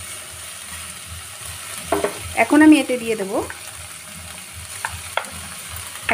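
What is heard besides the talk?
vegetables and chillies frying for khichuri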